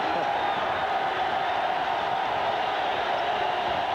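Basketball arena crowd at a 1985 Indiana at Illinois college game, a steady broad roar of cheering voices filling the space continuously.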